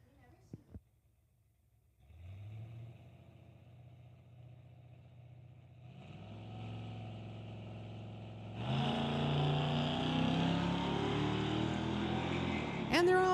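Sportsman drag racing cars at an NHRA Summit ET final idle low, then launch and roar down the strip, the engine noise building in stages to a loud sustained drone with an announcer talking over it.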